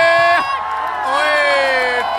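Crowd at an outdoor volleyball match in Sikanderpur cheers and hoots, sustained loud whoops and shouted calls with sliding pitches across a couple of seconds.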